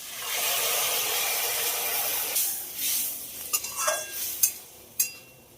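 Hot water poured into a pan of frying okra and potatoes gives a loud steady hiss for a couple of seconds, then settles into scattered clinks and scrapes of stirring, close by.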